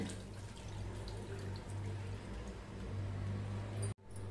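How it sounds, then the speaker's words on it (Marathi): Water is poured into a pressure cooker pot over washed chickpeas, a steady close splashing and trickling stream with a low hum underneath that stops abruptly near the end. "आता चणे शिजण्यापुरतं पाणी घालूया."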